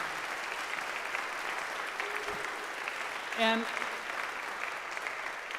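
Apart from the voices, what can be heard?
audience applause for the Attorney General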